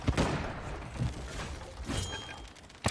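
Blunderbuss blasts in Sea of Thieves, a few heavy booming shots in quick irregular succession amid thuds and clatter, loud and close.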